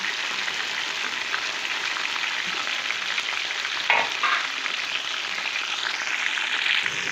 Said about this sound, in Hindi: दस मिनट तक हमें इसे फ्राई करना है